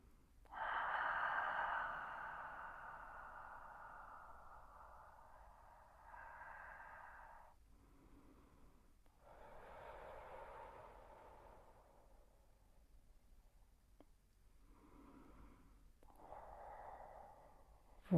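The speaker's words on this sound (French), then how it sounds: "Faites 6, 7, 8 respirations, 10 si vous le pouvez." Slow, deep breaths taken during a physiotherapy relaxation exercise, several long airy inhales and exhales spaced a few seconds apart, soft and close with quiet gaps between them and no talking.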